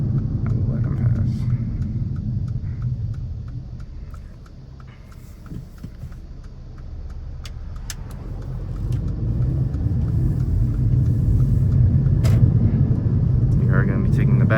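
A few cars pass on a road outside a moving 2016 Mercedes CLA 250, their swell and fade rising from a steady low cabin rumble and road roar that fill the whole stretch.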